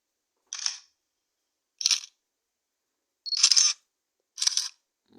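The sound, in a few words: camera shutter sound effect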